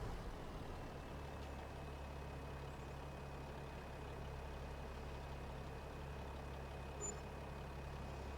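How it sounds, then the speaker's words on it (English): A large diesel tractor engine idles steadily nearby with a deep, constant rumble throughout, with no voices and no change in loudness. "There's tractor just pulling up."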